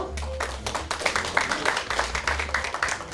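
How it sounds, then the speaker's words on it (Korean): Audience at a beauty brand awards ceremony applauding a winner, a brisk, continuous round of clapping from many hands at moderate volume. "큰 박수로 축하해주세요"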